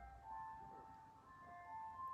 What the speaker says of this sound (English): The ice cream man's here.